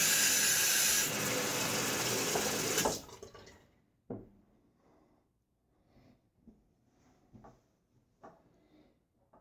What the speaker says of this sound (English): And a good rinse.